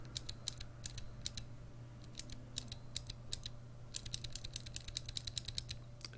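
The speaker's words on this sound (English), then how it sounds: "the sound of a Cherry MX green" Typing on a mechanical keyboard with Cherry MX Green switches: crisp clicky keystrokes in irregular bursts, close and fairly quiet over a faint steady background hum.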